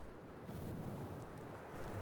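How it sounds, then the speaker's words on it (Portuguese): Wind blowing across a coastal bay in the game Dear Esther, a faint low rushing drone with soft gusty swells and no voices. "É o barulho do vento"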